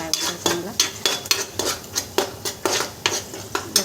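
Chopped onion tipped into hot oil in a pan and stirred, giving a steady run of sharp metallic scrapes and clinks roughly every half second, close and fairly loud, with no talk over it.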